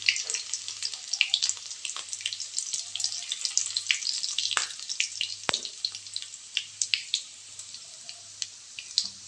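Crushed garlic and browned cumin sizzle and crackle in hot oil, a steady fine frying hiss with scattered pops and spits, fairly quiet and close, no voices.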